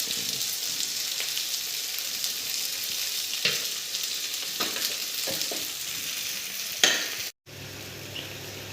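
Eggplant frying in a pan with turmeric and salt, a steady hiss broken by several sharp scraping stirs, close and loud, cutting out briefly near the end.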